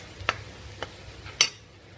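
Semolina and gram flour roasting dry in a pan over low heat, stirred with a ladle: a few faint, separate scraping strokes spaced through a quiet background.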